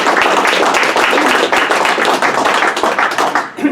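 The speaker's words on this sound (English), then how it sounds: "Please join me in giving a big round of applause to Yves." Audience applause for a speaker at a talk, dense close clapping from a small crowd, loud and steady for a few seconds before tapering off abruptly at the end.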